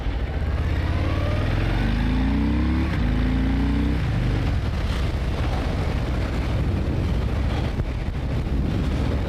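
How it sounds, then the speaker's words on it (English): A 2018 Harley-Davidson Fat Boy's engine pulls hard as the throttle opens, its rumbling note rising in pitch for a few seconds under heavy wind buffeting on the microphone, then blending into a steady roar. "And then when you do open up the throttle, it gets out of the blocks really nicely."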